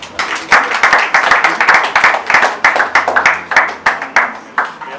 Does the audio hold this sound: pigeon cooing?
no